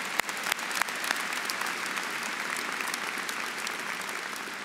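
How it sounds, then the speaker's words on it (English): A large audience at a spring university commencement for a college of arts and sciences applauds the families, with a few sharp claps at the start building into steady, even clapping that carries on throughout. "let's give the families a round of applause"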